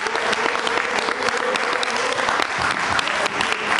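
A church congregation claps together in steady, dense applause that fills the room, loud and continuous from start to finish, with a faint voice or cheer mixed in underneath.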